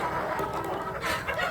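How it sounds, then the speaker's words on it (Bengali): Egyptian Fayoumi chickens clucking close by, a short burst of soft overlapping clucks and murmurs from the flock without anyone speaking. "এটা হচ্ছে মিশরি ফাওমি মুরগি"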